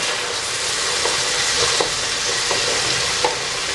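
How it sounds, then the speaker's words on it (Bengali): Bay leaf, cardamom, cloves, cinnamon and onion stir-fried in hot oil for a chicken curry, giving a steady close sizzle with a few soft scraping stirs of a spatula, no voices. "এগুলো দিয়ে ভালো করে নেড়ে বাদামি করে ভেজে নেব।"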